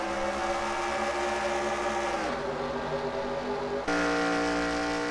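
Engines of race cars in a racing video game drone together at the green flag start at Texas Motor Speedway, a loud steady buzzing whine that shifts pitch twice as they accelerate.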